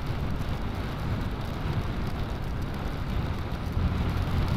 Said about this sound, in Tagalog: sana wag nang lumakas yung ulan